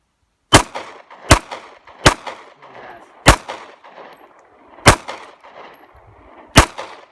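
Six loud, sharp gunshots ring out one at a time during a shooting drill, spaced irregularly about a second apart, each followed by a short outdoor echo.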